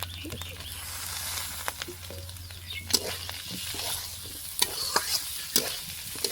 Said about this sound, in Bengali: এইভাবে ডিম আলু একসঙ্গে ভেজে নিতে হবে।